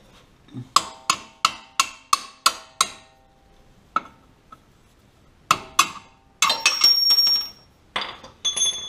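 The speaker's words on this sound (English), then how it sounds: "now we're ready to take out the lower shock bolt" Metallic clinks and ratchet clicks from a wrench removing an 18 mm lower shock bolt on a Jeep Wrangler JK during a lift kit install, with a quick run of about eight sharp ticks, a few isolated taps, then a burst of clattering metal.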